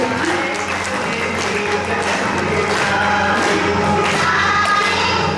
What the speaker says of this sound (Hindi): अगर केक सबको चाहिए, सभी जोरदार तालियां बजाएंगे।